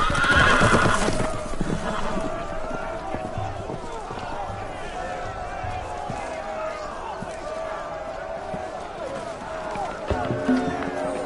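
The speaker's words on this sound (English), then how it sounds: "The horses! They're loose!" Horses whinny loudly at the start, followed by a steady bustle of hooves and commotion with voices shouting throughout.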